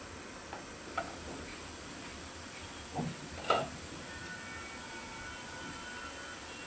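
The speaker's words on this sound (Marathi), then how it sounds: "स्लो गॅसवरती पुन्हा 2 ते 3 मिनिटाला शिजवून घ्यायचं आहे" Potato masala fries softly in a pan on low gas, a steady quiet sizzle with a few light scrapes of a spoon stirring, no voices.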